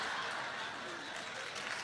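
A church audience applauds during a preacher's sermon, a brief, distant and fairly quiet patter of clapping from the crowd.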